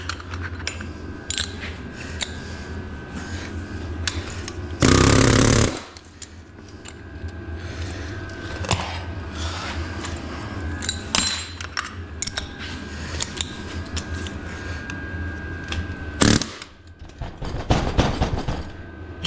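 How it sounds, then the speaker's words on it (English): Air chisel hammering on a semi truck starter armature, working out its windings in a shop, with short loud rattling bursts and several brief sharp strikes over steady background noise. "let me go get the air chisel. All right, we got the air chisel"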